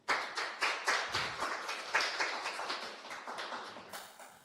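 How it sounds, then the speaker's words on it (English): An audience at a green trade and digital innovation summit gives a short burst of applause, with quick, fairly close hand claps that keep going for a few seconds before they fade. "Please give him a round of applause."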